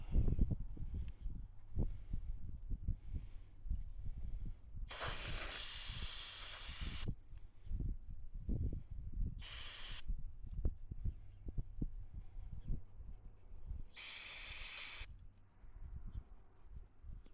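Three hissing bursts of aerosol spray cleaning the carburetor of a 1972 Honda SL350 motorcycle, the first and last lasting a second or two and a shorter one between, over clanking and handling noises.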